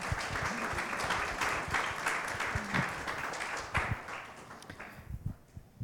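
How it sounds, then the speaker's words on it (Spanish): A congregation in a chapel bursts into sustained applause, many hands clapping, then thinning into scattered claps toward the end. "Un fuerte aplauso."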